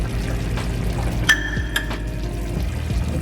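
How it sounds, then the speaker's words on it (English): A little cornstarch is poured into a skillet of cabbage and chicken stir-fry sauce, giving a short, soft pour and splash close by, with a couple of light clinks against the background sizzle. "I'm going to go in with just a little bit of cornstarch to thicken up the sauce"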